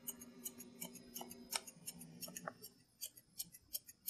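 Thinning shears snip through the head hair of a Soft Coated Wheaten Terrier during grooming, a run of quick, crisp metallic cuts in an irregular rhythm, close and fairly quiet.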